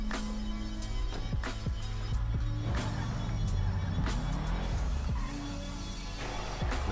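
A Rebel car drives out of a garage in GTA Online, its engine idling and revving through a steady motor hum, with game ambience and scattered clicks under it.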